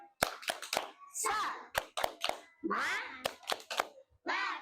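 Children in a kindergarten play session do a rhythmic clapping chant, with sharp hand claps in uneven bursts mixed with young voices chanting and talking close by.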